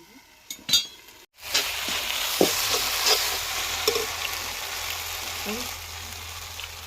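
Turmeric and chili spices fry in a pan with a steady, close sizzle that runs throughout, broken by occasional utensil clinks and scrapes; a few sharp knocks sound before the sizzle begins.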